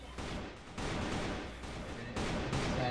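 Gunfire trades back and forth in a video game match, bursts of muffled shots in quick repeated volleys at moderate distance, without talk.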